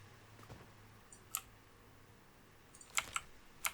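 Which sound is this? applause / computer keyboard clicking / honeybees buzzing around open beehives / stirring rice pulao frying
computer keyboard clicking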